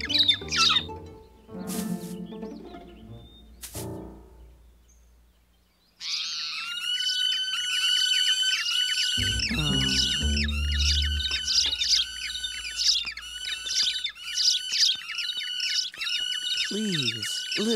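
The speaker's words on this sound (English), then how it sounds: "Sweet little loud birds! Stop chirping!" Cartoon birds chirp loudly in dense, rapid, repeated high calls that fill most of the stretch, after an opening of squawks and other sounds with a brief quiet gap.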